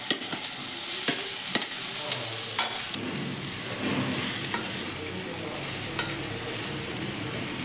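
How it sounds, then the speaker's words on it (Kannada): Lentils and greens stirred in hot oil in a pan after onions, with a steady close sizzle broken by sharp clanks and scrapes of a spoon against the pan. "ಎಣ್ಣೆಲಿ ಚೆನ್ನಾಗಿ ಬಾಡಿಸ್ಕೊತಾ ಇದ್ದೀನಿ"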